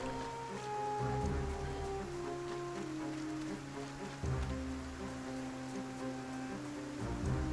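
Rain falls steadily in the video game Project Zomboid, a soft continuous patter beneath droning game music with sustained tones, no voices.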